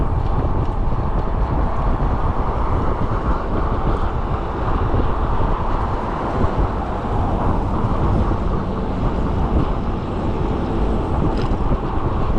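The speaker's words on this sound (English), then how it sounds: "A little bit of a wind through here." Wind buffets the microphone during a bicycle ride on the Upper Tampa Bay Trail, a dense, constant roar that holds steady from start to finish with no other clear sounds.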